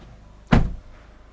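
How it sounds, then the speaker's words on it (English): A single solid thump of a car door being shut on a 2018 Skoda Karoq Edition 2.0 TDI 4x4, heard close by with a quiet interior hush before and after. "Let me shut the door."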